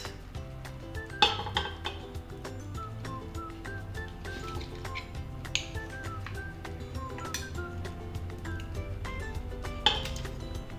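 Glass jars of mole, emptied for reuse as cups, clink and knock a few times as they are handled, with sharper taps standing out over a steady background bed.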